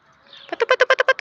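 Ducks give a quick run of about seven loud, evenly spaced quacks close by after a faint lead-in call.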